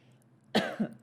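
A single sharp cough bursts out close by, followed a moment later by a smaller second cough, over a faint steady hum.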